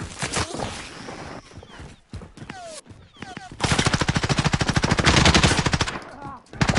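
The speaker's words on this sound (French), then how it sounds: "On me tire dessus!" Rapid machine gun fire in a video game: loud, close bursts that break off and return as a long sustained rattle of shots.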